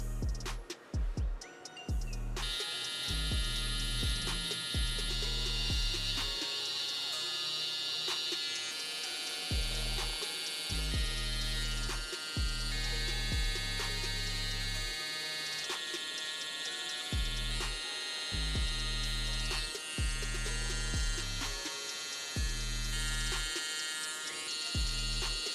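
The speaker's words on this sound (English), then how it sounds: "next I'm gonna start by edging up his forehead area and the facial hair as well" An electric hair trimmer buzzes steadily while edging a client's forehead hairline and facial hair during a bald fade, close and continuous, its tone shifting in short repeated strokes as the blades meet the hair.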